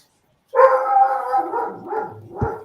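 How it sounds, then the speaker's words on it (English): Dogs barking and whimpering through a microphone during an online trivia call, a drawn-out close bark followed by shorter yips, loud and alone. "Or tell your dogs to shut the hell up"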